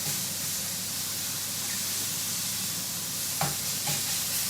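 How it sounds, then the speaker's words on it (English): Pieces of pork sear in a hot pan for a stroganoff, a steady close sizzling hiss throughout, with a couple of faint clinks from the pan or utensil near the end and no talking. "that's the first lot seared off"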